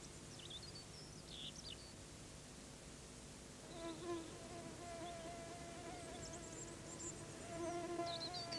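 Mosquitoes whining in a damp spruce forest, thin high buzzing drifting in and out over a faint steady hum, quiet and close, with no voices.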